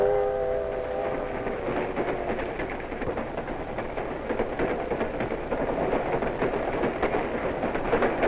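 Toy trains rattle along their tracks in a continuous clattering rumble with a whistle-like tone at the start, steady and fairly close, with no talking.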